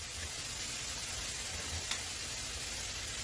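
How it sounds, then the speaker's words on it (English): Food sizzles in a pan with a constant bright crackling hiss, fairly quiet and steady throughout, with one small pop partway. "You've got this nice sizzle going on."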